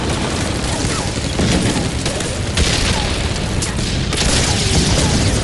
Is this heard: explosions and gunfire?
yes